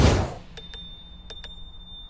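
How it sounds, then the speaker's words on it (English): The handlebar bell on an OOTD T10 electric scooter rings in two quick pairs of bright, clear dings, close up after a brief rustle of noise. "and a bell."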